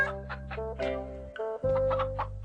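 A cartoon hen clucks in short repeated bursts in a Ninja Hattori episode, the clucks rising over a sustained musical background, fairly close and clear with no talk.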